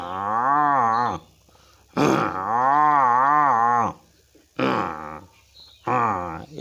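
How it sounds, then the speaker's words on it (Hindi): A water buffalo lets out several loud, deep, drawn-out moos close by, separated by short pauses. "गौर से सुनिएगा भैंस की आवाज़।"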